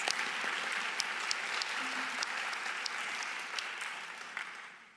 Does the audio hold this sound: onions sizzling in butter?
no